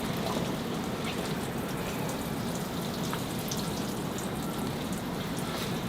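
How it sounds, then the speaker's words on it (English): Bonsai trees, including larch and maples, are watered inside an unheated poly house, giving a soft, steady spray and patter of water that runs on evenly throughout. "so I'll start the watering."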